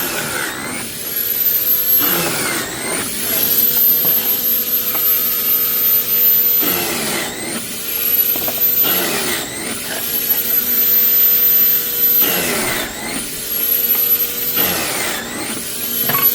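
A pocket hole machine motor, set for 13/16 material in a white oak kitchen build, whines loudly in repeated cycles, spinning up and winding down roughly every two to three seconds with a harsh, vacuum-like roar.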